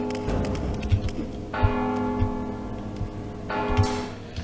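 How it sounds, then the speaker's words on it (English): A bell in the video game Mark of the Ninja rings twice, each strike a bright metallic tone that decays slowly, over ambient game sounds and soft rhythmic ticking, with no voices. "Don't you hear the bell?"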